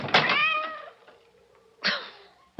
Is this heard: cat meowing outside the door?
yes